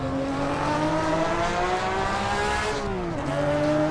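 Racing-simulator car engine pulling hard through second gear, a steady loud harmonic drone climbing in pitch, then briefly dipping at a shift before rising again, with no voices.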